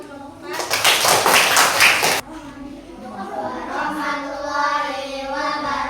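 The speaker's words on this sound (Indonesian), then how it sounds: "Kasih tepuk tangan buat kelompok 4." A class audience claps for a student group during an Islamic religious education teaching session, a dense burst of applause lasting under two seconds that stops abruptly, followed by a voice speaking.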